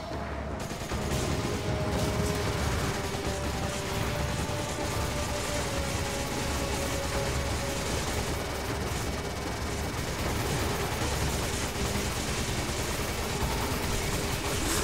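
Dense, loud gunfire in Resident Evil 5, weapons shooting at a barrel, forming a continuous roar of shots and blasts that runs throughout.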